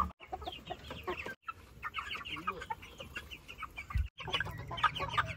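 Chickens cluck and chatter nearby in a flock, with short overlapping calls coming in busy bursts, a low voice faintly under them.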